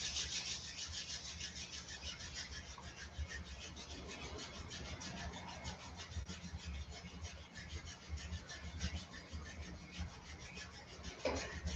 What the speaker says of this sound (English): start to rub the palms of the hands together